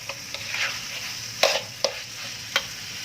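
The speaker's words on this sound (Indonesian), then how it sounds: "nasinya ditumis, berasnya bukan nasinya, berasnya ditumis" Raw rice grains sizzle and scrape as they are stir-fried in a hot pan for bakcang, with a few sharp stirring clicks standing out over a steady crackle.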